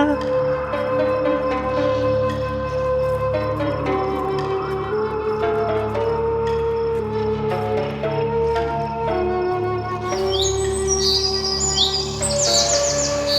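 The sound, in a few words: bird chicks chirping in a cartoon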